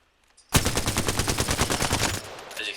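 R99 submachine gun firing in Apex Legends, one long rapid automatic burst of evenly spaced shots lasting about a second and a half, loud and close, starting abruptly after near silence.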